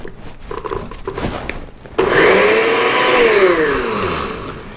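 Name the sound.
blender blending almond butter pudding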